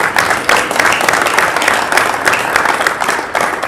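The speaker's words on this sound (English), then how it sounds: "please stand so we can applaud you as well as a group" Junior ceremony audience applauding the standing administrative and counseling team, a loud, dense burst of many clapping hands sustained throughout with slight swells.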